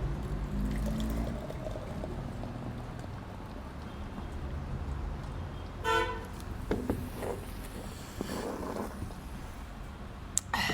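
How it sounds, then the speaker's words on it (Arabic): Pepsi pours into an empty glass with a soft fizzing hiss, fairly quiet, over a low background hum and a few clinks. "ممكن بس تفتح لي البيبسي وتصبها لي في الكوبايه الفاضيه دي"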